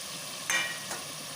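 Mutton and two cut potatoes, seasoned with turmeric, sizzle in a pan with a steady close frying hiss, broken by a couple of brief scraping stirs.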